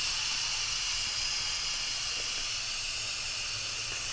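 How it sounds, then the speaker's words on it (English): Steam escapes from a kitchen appliance in a steady, unbroken hiss that holds at a constant level throughout, with no talk over it. "You can see the steam is releasing."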